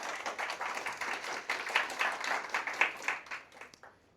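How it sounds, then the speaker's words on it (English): A small crowd at a tech talk claps for the event organizers, a lively patter of many hands building through the middle, then thinning and fading out near the end. "So maybe we can just all clap a little bit for these guys."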